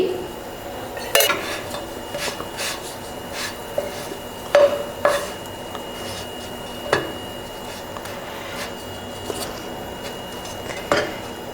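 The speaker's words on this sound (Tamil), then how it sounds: "ரெண்டு பிரெட்டை வச்சுங்க டோஸ்ட் பண்ணிக்கலாம்" Bread slices toasting in a little oil on a pan for a chilli bread snack, a faint low sizzle broken by sharp metal clinks and scrapes of a spatula at irregular intervals, close with no talk.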